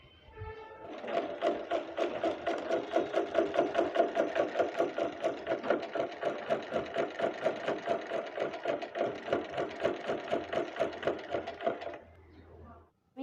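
A sewing machine runs steadily while stitching the sleeves of a kameez, a fast continuous whirring chatter lasting about eleven seconds before stopping abruptly, close and fairly loud with no talking.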